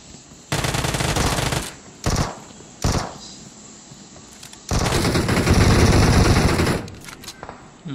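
Bursts of automatic gunfire from the BGMI battle royale video game, with several loud rapid volleys of varying length, the longest sustained near the end.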